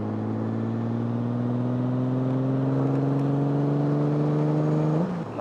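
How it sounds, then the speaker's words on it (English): Honda Goldwing motorcycle fitted with Shark Road exhausts revs up, a steady rising engine drone that climbs in pitch for several seconds before dropping off sharply at the end. "Let's flex the muscle there, those Shark Road exhausts a little."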